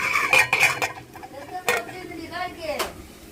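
A lid goes onto a cooking pot of pulao, with several sharp metallic clanks and rattles in quick bursts early on, then a few lighter clinks and scrapes.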